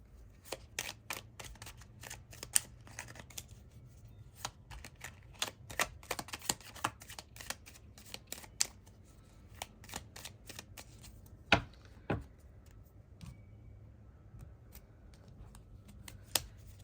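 Tarot cards are shuffled close by in a quiet room, a string of crisp, irregular riffling snaps and soft slides over several seconds, with no voices.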